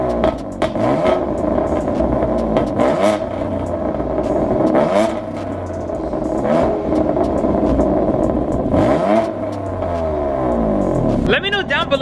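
A BMW M3 (F80) engine revs repeatedly through a throaty quad-tip exhaust, loud and close, each burst rising sharply then falling back to a rumbling idle.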